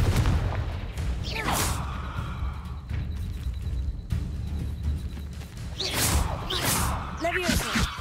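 A Confringo spell blast in Hogwarts Legacy, with booming, whooshing impacts and thuds in bursts over several seconds of game combat.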